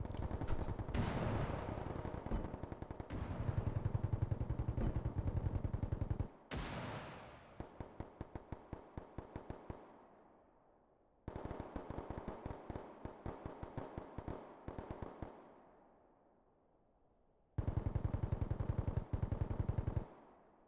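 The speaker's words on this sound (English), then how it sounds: "Just enjoy the symphony of all the gunfire." Rapid bursts of automatic gunfire in the video game Bellum crackle in repeated volleys, loud and dense, with brief pauses and echoing tails between bursts; no voices.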